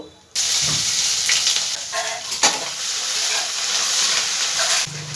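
Grated ginger drops into hot oil with fennel and cumin and bursts into a loud, steady sizzle that begins abruptly and carries on with light stirring scrapes.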